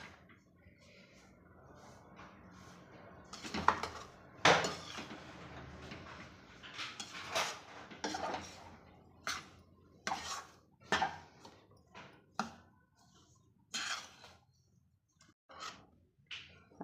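A spoon scrapes and taps in a pan with the heat off, breaking lumps of powdered sugar in a mix for rava besan laddoos. The sound is a close series of irregular metallic knocks and scrapes.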